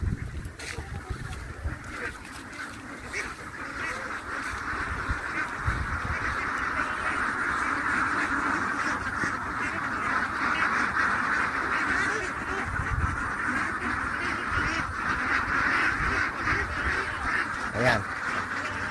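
Domestic ducks quacking as they are fed, a dense continuous chorus of overlapping quacks and honks from a flock, with people talking faintly underneath.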